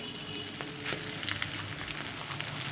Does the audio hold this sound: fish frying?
yes